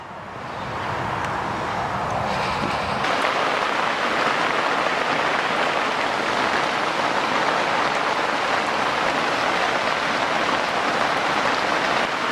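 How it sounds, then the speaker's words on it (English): Heavy rain pours onto a fishing bivvy beside a lake, a loud, dense, continuous drumming close overhead that swells after the first few seconds and then holds steady. "I don't know if you can actually make that out or even hear me over the noise of the rain"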